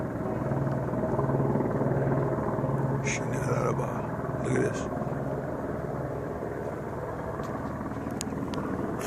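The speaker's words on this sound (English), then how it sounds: "This is a demonic helicopter, folks." A helicopter hovers early in the morning, a steady rotor rumble and drone filling the air at moderate distance, with someone briefly speaking over it.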